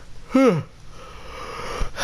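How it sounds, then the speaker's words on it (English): A person yawns once with a short rising then falling voiced breath, fairly close, followed by quiet room tone and a faint breathy sound near the end. "I can't stop yawning."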